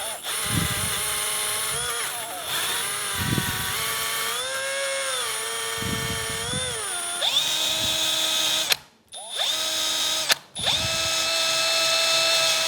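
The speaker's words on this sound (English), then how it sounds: "Using a wire brush or wheel, clean up around where the shims will sit." A power tool spins up on an Infiniti G35 front brake job, a wire wheel scrubbing the caliper bracket where the shims sit; a steady loud whine with rising and falling pitch, brief stops near the end, no talking.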